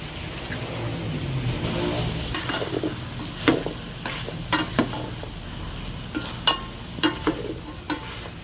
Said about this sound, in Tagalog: ilalagay ko na yung ating gulay, carrots po at patatas